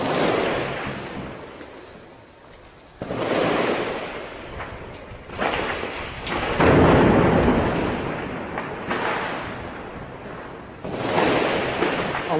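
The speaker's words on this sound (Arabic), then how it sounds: "قصف أحياء مدينة حمص المدفعية" Artillery shells hit neighbourhoods of Homs in 2012, a run of heavy booms and rumbling blasts that roll and echo over one another, loud and continuous, with no voices.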